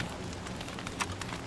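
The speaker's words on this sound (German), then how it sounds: "Es regnet immer noch." Steady broadband patter of rain from the video game Don't Starve Together, a dense continuous hiss with scattered brighter drop ticks, moderately loud and alone.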